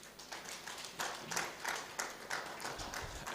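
An audience at a Uganda diaspora convention claps in repeated bursts of fairly faint, scattered applause heard from a distance, with no voices on top.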